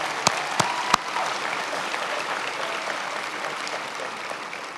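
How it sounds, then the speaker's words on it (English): A crowd at a university spring graduation ceremony claps in a steady round of applause. A few sharp claps stand out at the start, and the clapping continues evenly at moderate volume. "Let's give a round of applause to those who made this"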